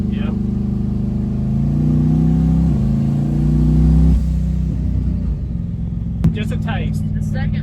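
A twin-turbo big-block Ford Fairmont drag car roars through a loud test pull, its engine note rising in steady climbing sweeps before easing off, with a brief voice near the end.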